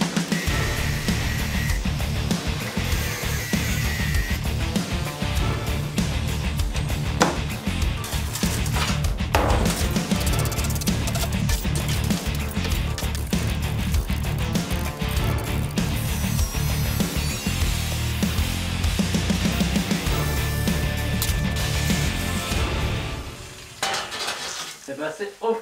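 An angle grinder or similar power tool slices through the steel back panel of a safe, a loud continuous grinding whine with shifting pitch that runs nearly unbroken for about twenty-three seconds before dropping off near the end.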